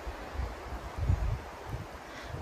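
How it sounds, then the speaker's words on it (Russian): Strong autumn wind gusting through a pine forest, a soft broad rustle of needles and branches with low rumbling buffets of wind, fairly quiet and without talk. "Ничего себе, какой ветер."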